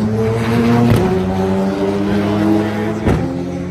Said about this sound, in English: Love that engine